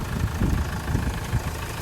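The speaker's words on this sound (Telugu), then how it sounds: "ఇంజన్ సౌండ్ చూపిస్తారు చూడండి ఒకసారి." A 2017 Mahindra XUV500 W8 diesel idles with a steady, rough low rumble and faint knocking pulses, heard close and constant throughout with no voices.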